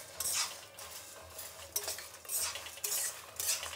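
Urad dal, chana dal and curry leaves stirred in a pan with a spoon over low heat, giving repeated scraping and clinking strokes over a soft continuous sizzle, close and fairly loud, with no talking.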